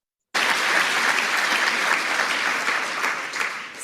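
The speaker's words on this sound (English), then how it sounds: "Look at all these SEALs clapping." A crowd of Navy SEALs bursts into loud, dense applause after a brief silence, the sustained clapping holding steady and easing slightly toward the close, with no voices.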